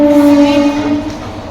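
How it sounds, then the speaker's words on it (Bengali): Train going by close to a house, a loud steady rumble with sustained tonal whine throughout, fading slightly toward the end with no talk over it. "তোমরা কি শুনতে পাচ্ছ আমার কথা নাকি ট্রেন যাচ্ছে"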